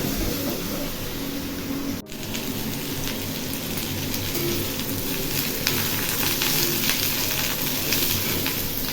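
Hot water is added to sautéed curry in a kadai. A continuous hissing sizzle with crackling, rain-like bubbling runs for about nine seconds, with a short dip near the two-second mark. There is no talking.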